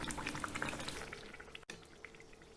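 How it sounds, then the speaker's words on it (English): Moong dal kachoris deep fry in medium-hot oil, a soft continuous bubbling sizzle with faint crackles, quiet and steady, briefly dipping near the end, with no talking. "Fry the kachoris in medium hot oil."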